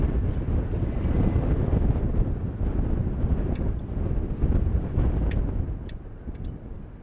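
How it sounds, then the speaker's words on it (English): Strong wind buffets a camera microphone at an outdoor high school baseball game, a loud continuous low rumble with gusty surges that eases slightly near the end. "Wind is trying to push our camera down."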